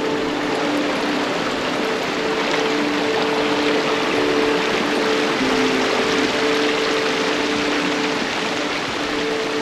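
Steady broadband rush of water pouring over Sikidiri Waterfall near Ranchi, a continuous dense roar heard alone at close range with a faint low hum running beneath it.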